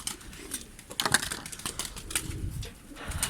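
Domestic pigeons, including a yellow one and its mate, coo softly at close range amid scattered light taps and wing flutters, with no voices.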